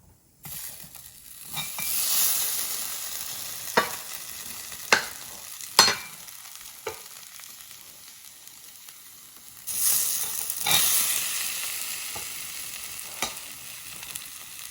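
A brownie piece sizzles on a smoking-hot plate, a steady hiss that swells twice with scattered sharp clicks and taps over the frying noise, and no voices.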